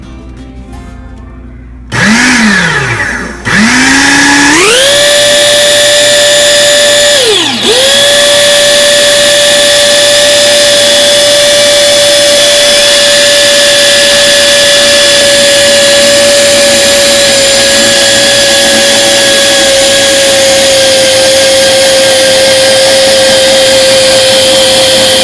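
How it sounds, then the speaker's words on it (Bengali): A food processor mixing chhana with semolina starts up after a couple of brief false starts, then settles into a loud, steady high-pitched motor whine that runs continuously, close and alone. "তো এখন ফুড প্রসেসরে দিয়ে দিচ্ছি।"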